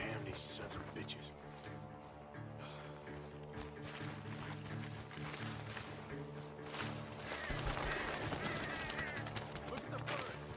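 Ducks quack repeatedly in Red Dead Redemption 2, the calls scattered over a dense game soundscape with music and effects, while voices talk over much of it.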